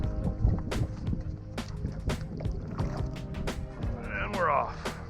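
Paddle board stroking across water on a fishing trip, with rhythmic splashes and sloshes from the paddle under wind noise, close by, while someone talks over it.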